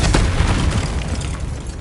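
A Confringo blasting curse goes off in a Harry Potter video game, a brief close booming burst with a dense rumbling tail that fades slowly.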